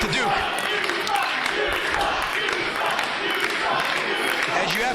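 A near-capacity wrestling crowd at the Norfolk Masonic Temple fills the hall with a dense, steady roar of shouting, chanting and clapping. A commentator's voice runs over the noise.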